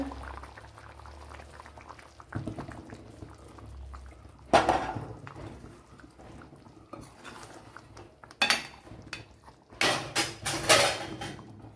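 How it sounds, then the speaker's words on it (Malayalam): Quail egg stew curry simmers in a pot, a soft steady bubbling with occasional clinks of a spoon or utensil against the pot and a few louder stirring bursts toward the end; no talking. "അപ്പോഴും നമ്മുടെ കറിയൊക്കെ ഇവിടെ നല്ലപോലെ തിളച്ച് വന്നിട്ടുണ്ട് ഉണ്ടല്ലോ"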